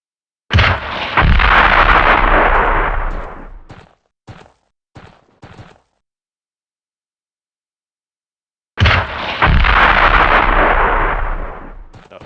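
Heavy gunfire booms at a shooting range in a British commando training game, a long loud blast that trails off, a few short sharp reports, silence, then another big blast.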